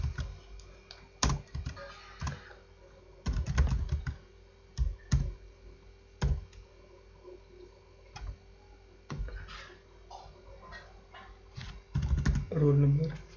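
Typing an email ID on a computer keyboard, heard as irregular bursts of close key clicks and taps with pauses between them, while a person talks.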